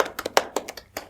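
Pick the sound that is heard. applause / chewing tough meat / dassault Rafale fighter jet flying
applause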